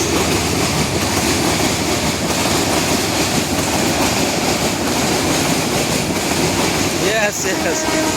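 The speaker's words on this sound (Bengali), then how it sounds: "প্রচুর শব্দ, প্রচুর পরিমাণ শব্দ রেলগুলো।" Trains pass along the rail line at Talshahar new bazaar, making a continuous loud roar and rattle of wheels on track that fills the whole clip, with faint voices buried in the din.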